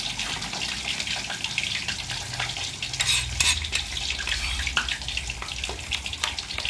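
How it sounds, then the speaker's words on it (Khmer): Spring onions are stirred into a bubbling sweet fish sauce in a pan, with close, busy scraping and clinking over a soft, watery sizzle. "ខ្ញុំចាប់ដើមដាក់ស្លឹកខ្ទឹមចូល"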